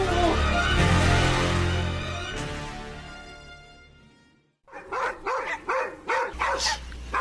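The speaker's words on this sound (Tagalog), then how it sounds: "Ingay naman ng mga asong yun." Dogs bark at night in a series of short, rhythmic barks and yips at moderate distance, following a stretch of louder background noise that fades out before the barking starts.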